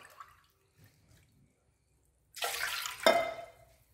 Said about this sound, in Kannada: 2 ಗ್ಲಾಸ್ ನೀರು ಹಾಕ್ಕೊಳ್ತಿದ್ದೀನಿ